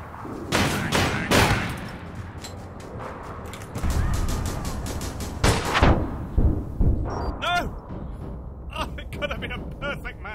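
Rapid pistol gunfire in the online shooter APB, several sharp shot bursts spread across the stretch with a person talking in between and over the shots.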